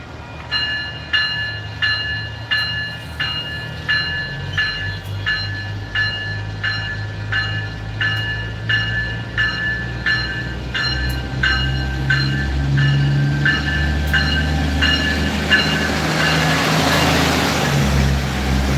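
Commuter train rolling past close by, opening with a steady rhythmic clatter of wheels over rail joints that builds into a loud, sustained rumble and roar.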